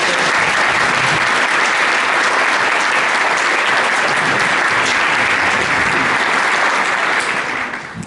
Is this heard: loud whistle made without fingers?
no